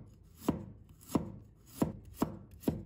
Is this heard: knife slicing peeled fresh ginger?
yes